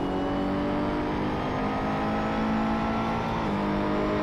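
A Ferrari race car in Assetto Corsa drones along at steady high revs, loud and close, with a clear gear change near the end and no talk.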